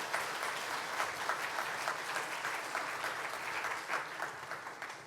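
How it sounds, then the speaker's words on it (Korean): A church congregation applauds its teachers at an afternoon praise service, steady sustained clapping from many hands filling the room for several seconds with no talking over it. "우리 교사들을 향해서 우리 격려의 박수 한번 보내주시면 고맙겠습니다"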